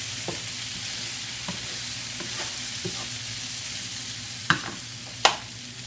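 Potato veggie stir fry being stirred in a pan, a soft steady sizzle broken by scattered scraping taps of the utensil and two sharper clacks near the end, no voices.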